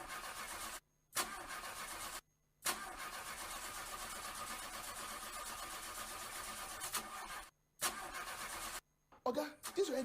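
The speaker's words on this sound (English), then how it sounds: "Oga, this your engine don't kaput." A car engine that will not start, heard as repeated cranking that runs in long stretches broken by short silences, then sputters at the end, close and fairly loud.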